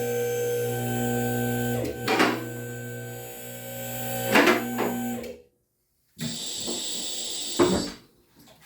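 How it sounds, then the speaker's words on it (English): A vehicle lift raises a 2004 Honda CR-V with a steady humming motor drone and occasional hissing bursts, stops briefly, then runs again, moderately close. "Now we're going to get the vehicle up in the air."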